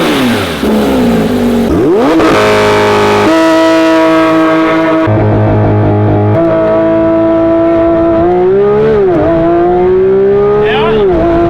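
A Porsche 911 GT3RS with its factory exhaust revs hard up close, its engine note climbing, holding and dropping through several loud high-pitched sweeps with a brief lull in between.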